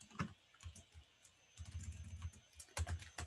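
A password is typed on a computer keyboard: quiet, close, irregular bursts of key clicks, with a denser run of quick keystrokes toward the end.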